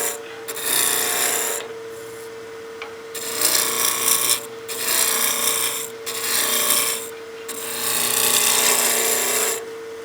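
A wood lathe spins a wooden blank at about 1800 RPM under a steady motor hum, while a turning tool bites in with loud raspy cutting bursts, five or six strokes separated by brief pauses.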